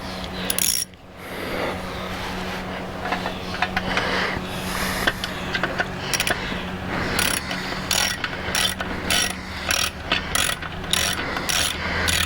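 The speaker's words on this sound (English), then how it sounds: "Let's see if I can snug this bolt up just a little bit." Ratchet wrench snugging a bolt on a Yamaha TW200 motorcycle's shifter and skid plate area, a steady close run of rapid metallic clicks repeating in bursts over a low constant hum, with no talking.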